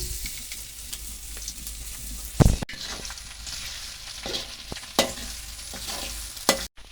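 Chopped garlic and ginger sizzle in hot oil in a pan for mango pickle while a spoon stirs, with steady frying hiss and a few sharp scrapes and clinks against the pan.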